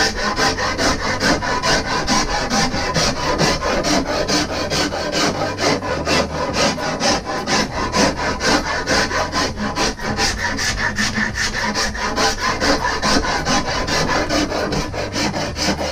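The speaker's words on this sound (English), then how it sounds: "I'm just going to round the edges off of this bamboo." Rasp or file rounding the edges of a bamboo bow backing clamped in a vise, continuous rhythmic rough scraping strokes, loud and close, with no talk.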